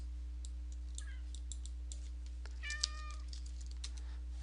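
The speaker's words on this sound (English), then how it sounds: "you may also hear one of my cats" A domestic cat meows twice, a short call and then a longer drawn-out one, heard at moderate distance over a steady low hum and faint intermittent keyboard clicks.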